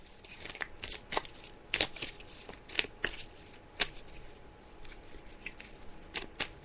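Tarot-style fortune cards are shuffled by hand in a quiet room, giving a series of crisp, irregular riffling and snapping bursts, close to the microphone.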